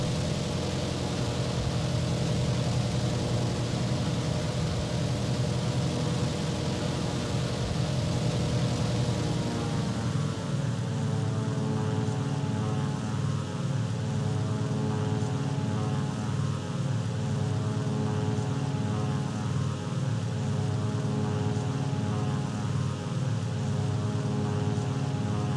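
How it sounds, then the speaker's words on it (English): Propeller engines of a Ju-88 bomber in a World War II flight video game drone steadily while the plane comes in to land. The tone shifts partway through, then holds as a continuous, moderately loud hum with no voices. "The Ju-88 is an awkward plane to land."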